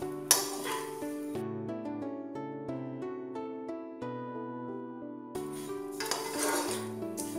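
A spoon turns vermicelli frying in ghee in a pan over low heat, with brief scraping and sizzling bursts at the start and end and light metallic clinks beneath prominent background music.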